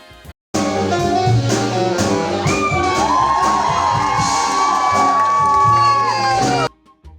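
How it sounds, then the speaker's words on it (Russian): A burlesque show audience of women squeals, whoops and cheers loudly and continuously for several seconds, with shrill high voices layered over the crowd noise before it cuts off abruptly. "А когда бурлеск дива драматично расстается с очередным элементом одежды, зал наполняется девичьими визгами одобрения."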